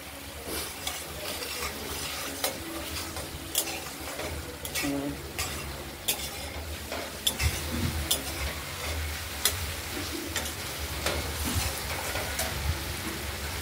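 Masala for a potato and paneer-ball curry frying in a pan, with a continuous close sizzle broken by regular scraping strokes of a spoon against the pan.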